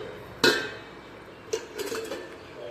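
A metal lid is set onto a cooking pan while preparing a Bengali mourola fish chorchori, a sharp clank followed by a softer second knock and a few light rattles, close and clear with no talk.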